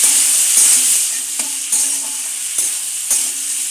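Onions fry in a pan with Kashmiri chili powder and ground black pepper for chilli chicken. A steady close sizzle hisses throughout, broken by a spatula scraping and knocking against the pan every half second or so.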